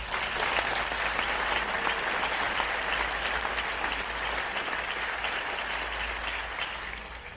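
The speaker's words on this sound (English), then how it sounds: "Let's give them a round of applause." A graduation audience at a school commencement breaks into sustained applause, a dense, even wash of many hands clapping that carries on steadily throughout with no voices standing out.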